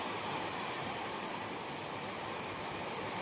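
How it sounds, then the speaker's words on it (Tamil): Heavy summer rain pours down steadily in a dense, even hiss of drops striking surfaces, constant and unbroken with no voices. "மழை பாருங்கள் சூப்பராக பெய்யுது"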